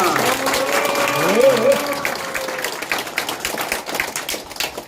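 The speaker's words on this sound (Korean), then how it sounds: "다 같이 박수 한번 크게 한번 치고 가겠습니다." A crowd applauding at the opening ceremony of a Korean local election campaign office, with dense, steady clapping that fills the whole stretch and stays fairly loud, along with some faint tonal sounds near the start.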